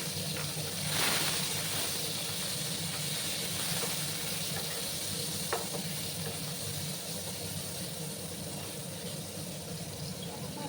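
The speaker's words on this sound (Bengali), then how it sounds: "তেলটা গরম হয়ে গেছে, এবার আমি পনিরগুলো দিয়ে দিলাম" Paneer cubes frying in hot oil give a steady, soft broadband hiss with a low background hum, holding evenly throughout with no talking.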